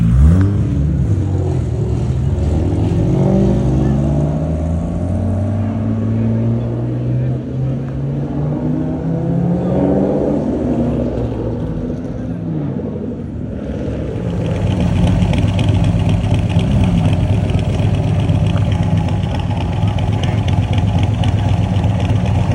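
A Toyota Supra's engine revving at a car show, rising and falling pitch sweeps from revs climbing and dropping, then a louder sustained roar, with people talking nearby.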